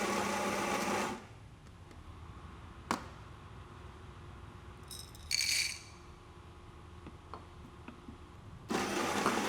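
A Baratza Encore ESP Pro coffee grinder grinds beans in short loud bursts of whirring motor noise, one at the start, a brief one in the middle and another starting at the end, with quiet pauses and small clicks between.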